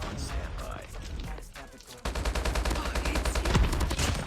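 Rapid bursts of HBRa3 rifle fire in Call of Duty Mobile crackle in dense repeated volleys, quieter at first and then louder and continuous in the second half, with faint background game sounds.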